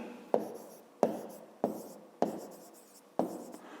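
Pen or pencil writing a math solution by hand on paper for a fifth-grade cube surface-area exercise, five distinct stroke bursts each starting with a sharp tap and scratching off, close and quiet with no talk.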